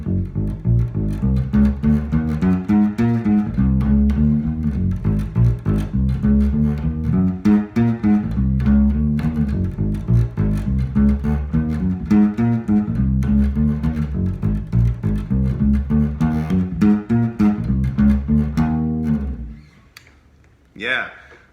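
Bass guitar plays a walking line, a funky quarter-note pulse with chromatic approach notes, steady and prominent for about twenty seconds before stopping abruptly.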